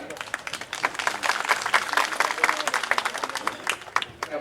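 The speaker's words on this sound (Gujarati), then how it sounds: "તાળીઓ નાથી વધાવીએ" An audience at a lake inauguration ceremony in a village applauds a donor with brisk, rapid clapping from many hands, close and fairly loud, holding steady throughout.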